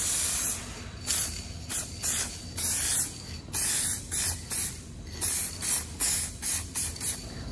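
Aerosol spray can laying down base coat paint on a repair, a series of short close hissing bursts in an uneven rhythm with brief pauses between passes, no voices.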